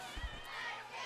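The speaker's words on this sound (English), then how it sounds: "we got 80 cheerleaders down there cheering away" Cheerleaders cheering at a high school football game, heard as a faint, distant crowd roar with shouting and yelling voices blending together.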